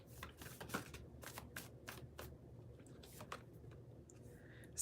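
Moonology oracle cards are shuffled in a run of soft, rapid riffles and flicks, close and quiet, against a low background hum.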